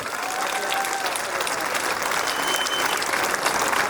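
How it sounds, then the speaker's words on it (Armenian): An audience at an election campaign speech applauds the campaign team, a sustained, even roar of many hands clapping for about four seconds with no talk on top. "Մի հատ կխնդրեմ ծափարենք այս մեր գեղեցիկ թիմին"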